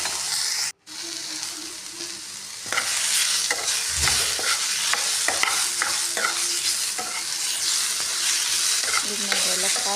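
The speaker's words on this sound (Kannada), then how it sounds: "ಇದರೊಳಗೆ ಎಣ್ಣೆ ಹಾಕಿ ಚಲೋ ಹೊತ್ತಾಗಿ ಕೆಂಪಾಗೋಂಗೆ ಫ್ರೈ ಮಾಡ್ಕೊಬೇಕು." Ingredients frying in oil in a pan for green peas rice give a bright, steady sizzle, with repeated scraping stirs and clinks and a brief dropout near the start; no talking.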